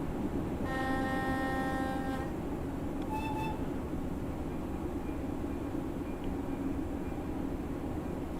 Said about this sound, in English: I need to turn this train down because it's too bloody loud